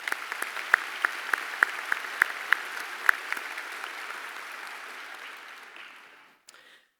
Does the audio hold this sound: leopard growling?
no